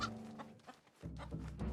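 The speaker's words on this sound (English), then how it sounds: "Any chickens are chasing me?" Chickens in the video game Dragonwilds cluck and squawk in short, close bursts, with a brief lull midway before a denser run of clucking.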